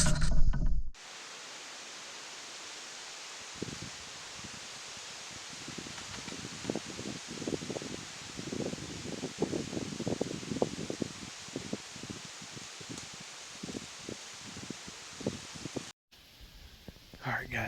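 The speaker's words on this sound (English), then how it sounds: "It's really windy today" Wind gusts rustle dry leaves among acorn-dropping trees beside a tree stand on public land in the woods. The rustling rises in uneven, swelling bursts over a steady breezy hiss, with no one talking.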